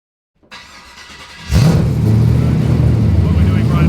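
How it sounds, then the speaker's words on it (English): A V8 SuperUte race car engine fires up after a short whir and settles into a loud, steady, close idle with a deep rumble while it warms up. "We're putting them in gear, warming the engine, the gearbox."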